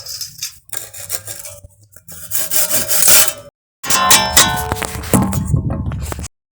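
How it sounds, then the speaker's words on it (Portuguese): A hand saw cuts through an incó wood stick for a bonfire craft, heard as two close, rasping runs of back-and-forth strokes separated by a short pause, with no talking. "Você vai serrar aqui, ó, com serrote."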